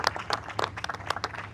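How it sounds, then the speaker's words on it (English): Applause from an audience at a press conference for a Water Street project, a short burst of scattered, fairly close clapping with no speech over it. "So Pat, let's give Pat a round of applause for that."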